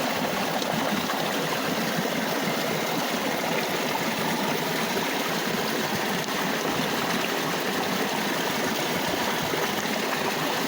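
Einhell 18 V cordless submersible pump pushing water through a 10 m hose up about 3.5 m, a steady, continuous rushing and trickling of water with a faint motor hum underneath, unchanging throughout.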